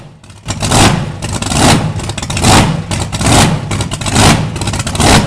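Rising and falling engine surges repeat roughly once a second, loud and close, from a 500 horsepower Allen 6S37 oil engine rated at 375 RPM, installed in 1948 for fen drainage at Welch's Dam pumping station.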